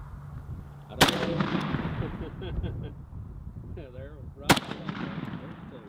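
Two sharp, loud gunshots about three and a half seconds apart, heard over ongoing conversation in a live show setting.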